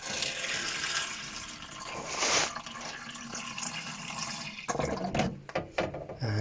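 Water is poured into terrarium containers holding a serissa bonsai, a steady trickling and splashing fill running for several seconds, then broken, uneven splashes and drips as the pouring stops and restarts.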